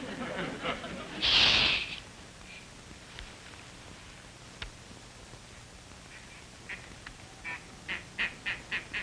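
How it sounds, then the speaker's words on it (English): Ducks quack in a flurry near a pond, first a loud burst, then a run of short sharp quacks at a steady pace toward the end, faint background between. "You scared the ducks."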